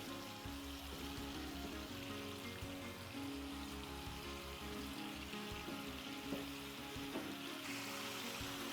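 Aloo fry shorba, a potato gravy, heating toward a boil in a pot, giving a steady bubbling sizzle that carries evenly throughout with no talking.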